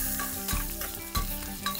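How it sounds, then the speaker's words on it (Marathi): Kande pohe (flattened rice with onion) mixed with sugar and salt in a pan, two or three spatula scrapes over a gentle sizzle, close and steady, with soft music underneath. "याला छान एकत्र करून घ्यायचं आहे आणि मिक्स करून घ्यायचं आहे"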